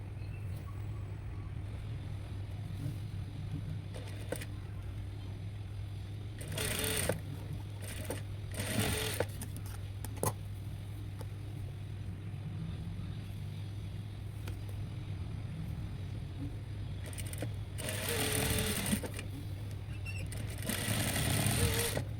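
A sewing machine stitches the shoulder seam of a blouse, a steady low mechanical hum running throughout with a few sharp clicks and bursts of handling noise, no talk.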